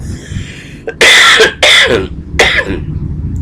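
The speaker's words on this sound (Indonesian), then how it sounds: "Batuk." Three sharp, close coughs come in quick succession, loud and harsh against a quiet background.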